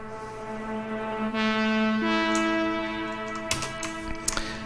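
Deep house lead synthesizer for a first drop, sustained harmonic tones swelling in through a reversed reverb tail, then holding steady notes with brief bright transients near the end; no voices.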